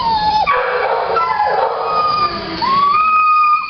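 A young Beagle mix dog howls and yips in drawn-out, wavering calls with short breaks, loud and close, with no other sounds over it.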